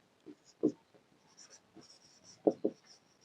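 Pen or pencil writing out a math solution on paper, with soft, close scratching strokes in short irregular bursts and quiet pauses between them.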